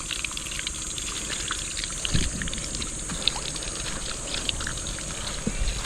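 Water pours from a submersible pump outlet on a farm in Oriental Mindoro, a steady splashing flow with occasional thumps and faint background noise.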